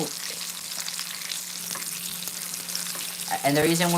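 Steak searing in a hot pan while pressed down for an even sear, a continuous loud sizzle with a steady low hum underneath and a brief clatter of utensil noise near the end.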